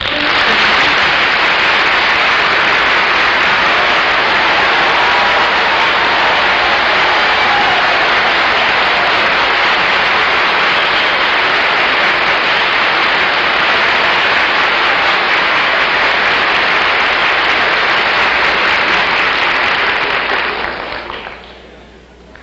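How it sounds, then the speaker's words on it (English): Studio audience applause for a live panel show, a dense, loud, sustained wash of clapping that holds steady for about twenty seconds before trailing off at the end. "thank you very much for your wonderful applause"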